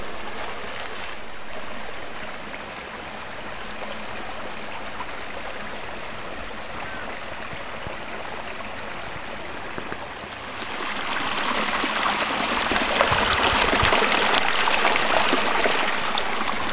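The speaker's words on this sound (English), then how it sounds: "This is one of the creeks that runs back here in the woods" A creek in the woods behind a state hospital, flowing with a steady rushing, gurgling wash that swells noticeably louder near the end, no talking.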